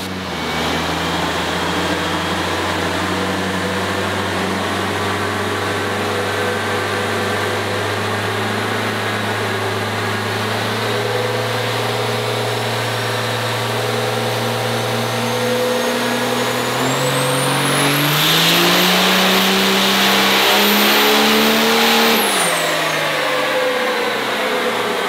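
Single-turbo truck engine of about 1250 horsepower on a dyno, a long steady drone that climbs in pitch near the end into a loud high turbo whine before dropping back, continuous and close with no talking.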